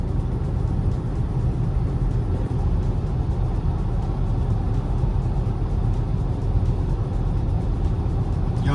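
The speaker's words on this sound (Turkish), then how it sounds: "Gelen hafif yani o gelen ses teker sesi." Tire roar fills the cabin of an MG4 Luxury electric car cruising at 100 km/h with all windows closed on a windy day, a steady low rumble with no engine sound.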